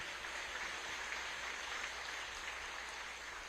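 An audience at a rice programme launch in Cabanatuan City applauds a speaker, a steady, faint patter of clapping that sounds distant and evenly sustained throughout.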